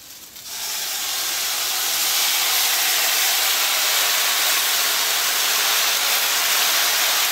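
Sauce poured into a hot pan of cooking kale bursts into a loud, steady steaming hiss that swells within the first second and holds close and constant, with no voices.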